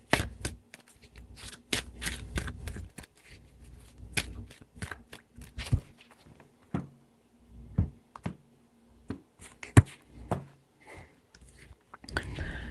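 Tarot cards handled and shuffled up close, heard as repeated short crisp slaps and flutters spaced irregularly, with a few louder snaps near the end, quiet overall and free of speech.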